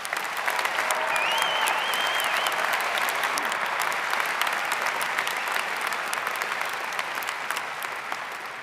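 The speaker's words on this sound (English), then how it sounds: "Big round of applause for our graduating students." Sustained, even applause for graduating students at a business school commencement, a large crowd clapping steadily for the whole stretch with a faint whistle or cheer early on.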